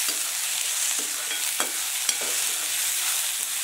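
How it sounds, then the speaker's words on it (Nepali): Kinema, fermented soybean curry, frying in a pan with garlic-ginger spice paste, a steady close hiss of sizzling with a few soft scrapes of stirring, no voices. "किनिमाको तरकारी तयारी हुँदैछ"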